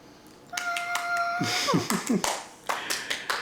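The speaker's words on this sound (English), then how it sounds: "Background noises and clapping are from my daughters" Several hand claps ring out irregularly over a voice and a brief tonal ping, fairly close and moderately loud.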